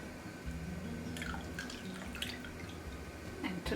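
Milk is poured into cups in a home kitchen while making yogurt, a faint trickle and drip of liquid with a few light clinks of containers, quiet and close.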